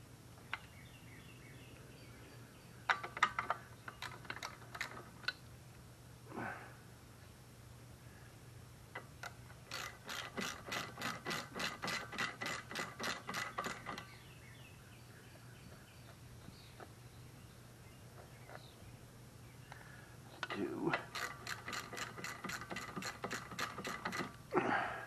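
Bolts being removed from a Snapper SP-110 22-inch rear-wheel-drive mower, heard as bursts of rapid metallic clicking from a ratchet, close and fairly quiet, separated by pauses.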